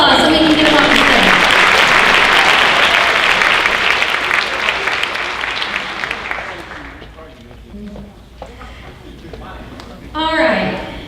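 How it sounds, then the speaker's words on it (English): Loud, dense applause fills a high school honors night auditorium as student award winners leave the stage, tapering off after several seconds with a voice speaking over the tail end and a short burst of cheering. "another round of applause so we can get them off the stage"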